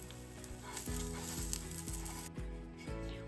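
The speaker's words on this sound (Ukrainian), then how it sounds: "в такому режимі обсмажую всі сирнички, вони виходять легкі і ніжні" Sugar-free syrniki, cottage cheese pancakes, frying in oil under a lid, giving a quiet, even sizzle with a low steady hum beneath and faint periodic ticks, no talking.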